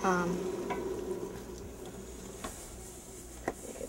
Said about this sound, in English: So we're going to stir it in, and it's going to start to boil again.